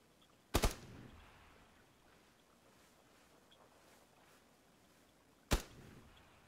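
Two sharp, isolated gunshots from a sniper rifle in the battle royale game PUBG, the first cracking early and the second about five seconds later, each a loud broadband crack over quiet ambient game noise.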